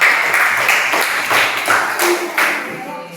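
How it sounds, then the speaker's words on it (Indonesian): Classmates in an elementary school classroom clap for their peers, a short burst of loud rhythmic clapping in uneven groups that fades toward the end. "Silakan tepuk tangan untuk mereka."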